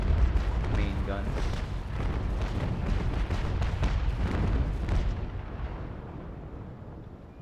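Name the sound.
HMS Victory main guns firing in the video game Naval Action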